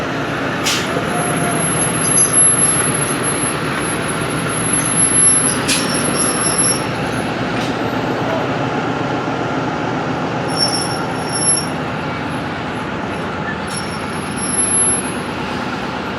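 The Sialkot Express passenger train rolls loudly and close through city streets, a continuous rumble of wheels on rails with high metallic squeals and brake hiss rising at intervals.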